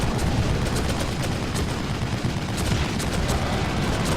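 Dense, sustained gunfire in The Evil Within, a horror shooter, with rapid overlapping shots and booms forming a loud, continuous barrage across the whole stretch, no talking over it.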